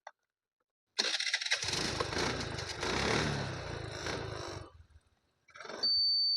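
A 2013 TVS Wego scooter is started with its self-starter, cranking briefly before the engine catches and runs steadily up close, then cuts off for a moment and starts again.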